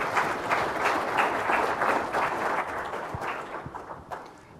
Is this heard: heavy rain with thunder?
no